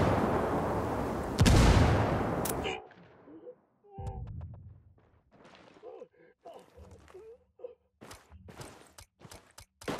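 Grenade blast in the Ghost Recon Wildlands shooter, a loud broadband burst early on that fades within a few seconds, followed by scattered footsteps, clicks and muffled gunfire-like knocks with brief voices mixed in.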